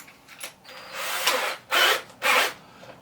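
A power drill fitted with a masonry bit bores into a wall in a longer burst, then two short, loud pulses, each a harsh grinding whir with quiet gaps between.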